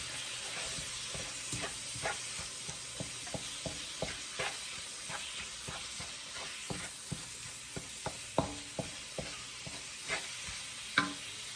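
Traditional African pasta being stirred in a pot with spices, a soft simmering hiss broken by frequent quiet scraping and clinking strokes of a spoon in an irregular rhythm, fairly faint and with no talking.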